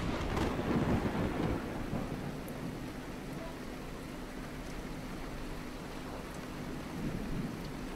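Thunder rumbles in the video game Dusty Trip, a dense steady wash of rain and low storm roar with a stronger rolling swell early on, continuing without pause.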